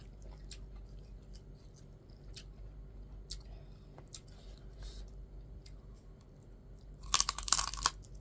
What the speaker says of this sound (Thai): ผักกาดแก้วกรอบกรอบ